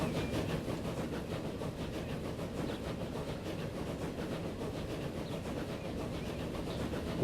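A steam train runs in the 1875-era railway game Transport Fever, a continuous rumbling chug with faint rhythmic clatter, steady and alone at moderate level.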